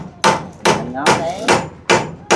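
Nails hammered by a carpenter at a house where a groundwater well is to be drilled: six loud, sharp blows at a steady pace, close by, with a voice briefly talking between strikes.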